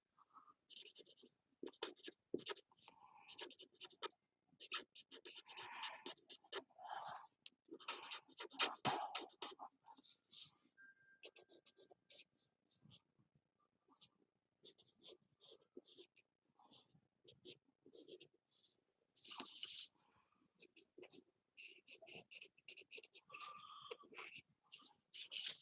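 Colored pencil scratching across paper while layering shades on a flower drawing, a steady run of close, soft strokes with short pauses in between and no talking.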